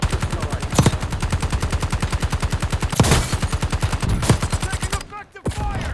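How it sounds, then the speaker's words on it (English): Rapid automatic gunfire in the shooter game Black Ops 6, a fast steady stream of loud close shots with a few heavier blasts, ending in a brief pause. "Taking effective fire!"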